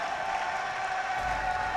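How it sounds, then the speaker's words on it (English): Esports arena crowd at a Dota 2 Major in Paris cheering and applauding, a loud, steady wash of noise filling the whole moment with no break. "And the crowd goes wild."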